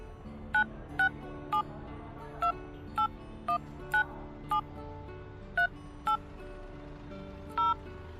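A mobile phone keypad sounds as a new number is saved into its phone book, giving about a dozen short, crisp tone beeps at an uneven pace over soft background music.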